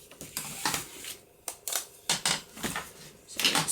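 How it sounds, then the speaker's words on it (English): Silver card paper being trimmed by half an inch, several loud, close cutting strokes in separate bursts with short gaps, each a sharp slicing rasp. "And I'm going to cut 1/2 inch off the silver."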